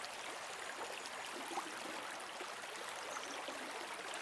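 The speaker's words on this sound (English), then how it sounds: "in the distance you can hear a river" A distant river flows in a soft, continuous broadband rush, faint and steady throughout with no voices.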